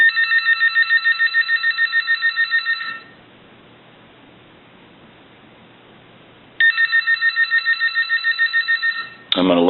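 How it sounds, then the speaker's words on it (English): Rotary dial telephone bell ringing on a Wedgewood phone during repair testing, two loud bursts of rapid metallic ringing separated by a quiet pause, with brief talk at the end. "we're going to go ahead and ring the telephone"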